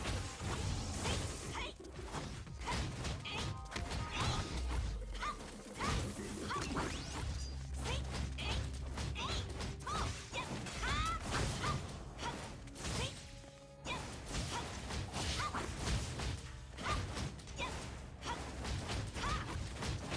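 Combo attack hits in the action game Honkai Impact 3rd, a dense, continuous barrage of smashing impacts, whooshes and metallic clangs against a steady game soundtrack, loud and relentless throughout.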